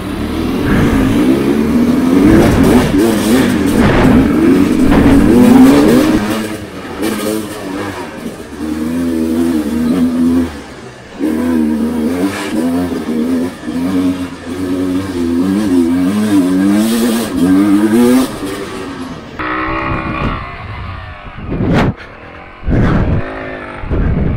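A Sherco enduro motorcycle engine revs and accelerates repeatedly up close, pitch rising and falling through uneven bursts before easing off near the end.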